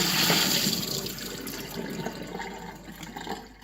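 Water pours and splashes steadily from an emptied kettle, carrying limescale out, loudest at the start and gradually easing off over a few seconds; no one speaks.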